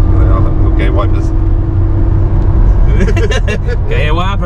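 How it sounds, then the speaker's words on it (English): A Honda S2000 with a 2-litre naturally aspirated engine drives in traffic, giving a steady loud low drone throughout, with people talking over it. "A 2 litre engine, mate, a 2 litre naturally aspirated engine"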